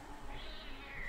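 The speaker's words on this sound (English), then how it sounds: "Ooh. A little cat." A small cat meows faintly inside a haunted house in the Halloween video game Sinister Halloween, a brief soft call over steady background hiss.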